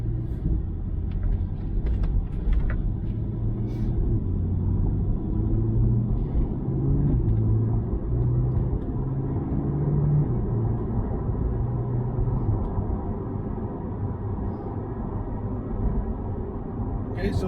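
A C8 Corvette driving at light throttle on an ordinary road, its engine a steady low rumble under road and tyre noise that holds evenly throughout, with faint sounds of other traffic mixed in.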